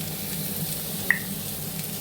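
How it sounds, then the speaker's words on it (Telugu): Two tomatoes sizzle in a pan with ajwain leaves, giving a steady close frying hiss with a single brief click partway through. "ఇప్పుడు 2 టమాటాలు వేపుకోవాలండి"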